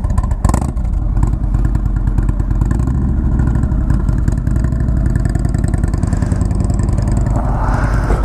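An Indian motorcycle engine runs loud and close with a steady, throbbing rumble and mechanical clatter throughout, with no voices.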